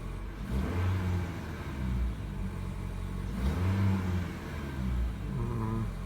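A 2019 Toyota Corolla Hatchback engine with a newly installed Blitz air filter idles steadily up close, with a couple of brief revs swelling and fading over a constant low rumble.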